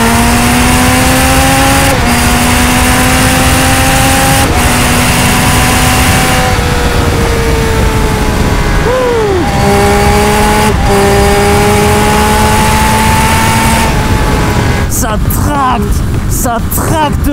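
Triumph Speed Triple 1200 RS motorcycle at speed on the autobahn, a loud steady engine drone with tonal pitch steps as gears change and the bike pulls harder, wind roar throughout, and a buffeting burst near the end.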